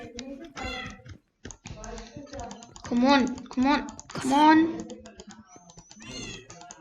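Cat meows from the video game Minecraft, several rising and falling calls close together, mixed with computer keyboard typing while a person talks.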